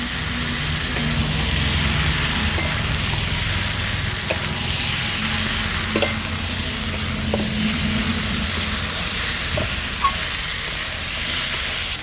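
Fried jackfruit and potato cooked with a little meat sizzle loudly in a pan as they are stirred and mixed, a steady close frying hiss with occasional scraping knocks of the spoon throughout, no talking.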